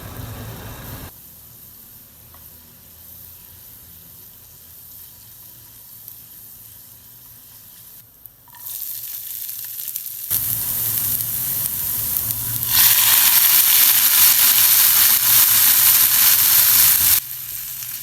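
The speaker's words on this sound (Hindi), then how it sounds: "आप इसमें लहसुन ऐड करें और इसको आप ब्राउन कर लें।" Garlic browning in hot ghee in a pan, a steady hiss that swells into a loud, bright sizzle and then cuts off; no talking.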